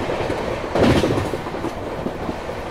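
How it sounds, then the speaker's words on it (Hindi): The Chennai Rajdhani Express running on rails near Agra as it overtakes the Mahakoshal Express: a steady rumbling clatter of wheels and carriages heard from inside, with a brief louder surge early on, and no voices. "एक और ओवरटेक मैं आप लोगों को दिखाता हूँ कि महाकौशल एक्सप्रेस को जो कि जबलपुर की हो जाती है उसे भी हम लोग ओवरटेक करने वाले हैं।"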